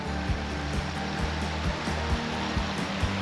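Spring water gathering and flowing into a creek in limestone country, a loud steady rushing wash with constant turbulent texture and no voices.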